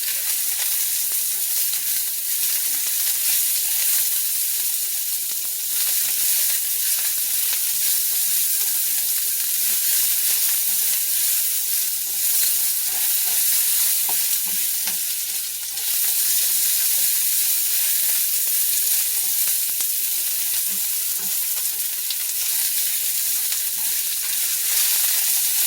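Beef and mushroom risotto fries in a pan while being stirred frequently, giving a loud, continuous sizzle with steady hiss and soft scraping that runs without pause.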